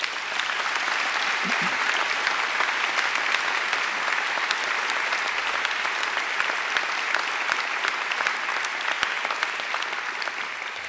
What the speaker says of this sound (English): I think he deserves another great round of applause